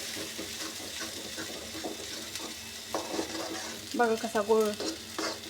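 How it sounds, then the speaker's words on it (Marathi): Masala sautéed and stirred in a pan gives a steady, close frying sizzle with scraping strokes, rising to a louder burst of stirring near the end, while a person speaks briefly. "छान मसाला परतून घ्यायचा."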